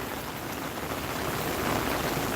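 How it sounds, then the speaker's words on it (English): Heavy rain pours steadily outdoors in Edgewater, South Florida, a dense, unbroken hiss of drops spreading across the whole range without pause, close and loud with no voices. "it's been raining for the last 48 hours"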